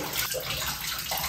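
Soapy water draining from a tub, a steady close rushing and gurgling flow that stays constant throughout with no talk.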